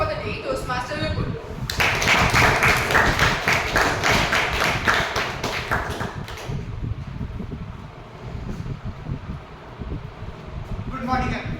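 Audience applause at a Toastmasters club meeting, a dense burst of many hands clapping that rises sharply, holds loud for several seconds in a room with fan-like hum, then fades to scattered murmur and a few claps.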